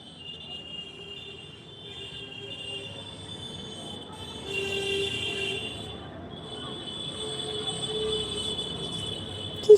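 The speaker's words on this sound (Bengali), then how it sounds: "পুরো রাস্তা ফাঁকা তা সত্ত্বেও হর্ন দিচ্ছে" Distant motorbike horns sound in sustained tones over faint outdoor ambience on an empty road, swelling louder midway and again toward the end.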